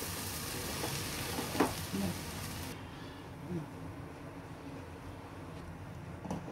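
Bread pieces sizzle and fry in a pan on a low gas flame, a steady hiss with a few soft scraping stirs, which fades to a quieter simmer partway through.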